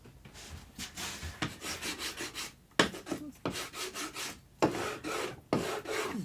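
Tape being burnished down by hand on a bass guitar under construction, a series of short rubbing and rasping strokes in uneven bursts, close and fairly loud.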